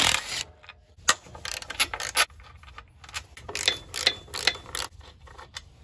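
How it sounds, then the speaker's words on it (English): A ratchet wrench clicks in quick bursts while a winch is taken off a vehicle, close and fairly loud, with short pauses between runs of clicks and no speech. "let's get this winch off."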